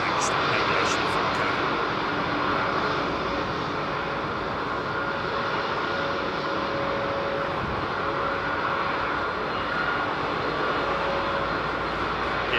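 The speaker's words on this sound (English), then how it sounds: "hear the singing of those engines on that 767, and hear the humming of those Trent 8s" A Boeing 767 with Rolls-Royce Trent engines at London Heathrow hums steadily at idle, a loud, continuous engine drone with a faint whining tone over broadband roar.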